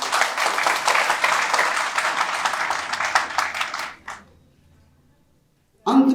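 Loud applause from an audience at a Hindi lecture on Ambedkar and Periyar, dense and sustained for about four seconds before dying away, with a brief burst returning at the end.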